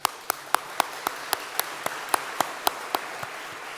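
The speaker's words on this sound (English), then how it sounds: "a big round of applause for them as well" Steady, evenly spaced claps ring out at a community celebration event, sounding like a small number of people applauding in a crisp rhythm with no talking.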